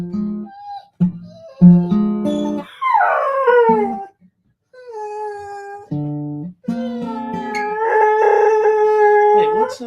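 A small, chubby dog howls and whimpers close by in long, wavering, tonal bursts with brief pauses, loud and alone with no talking.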